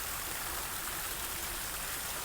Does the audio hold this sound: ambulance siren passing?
no